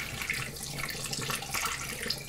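Apple juice mixed with sugar solution pours steadily into a glass demijohn for cider making, a continuous close splashing, gurgling stream of liquid with no talk.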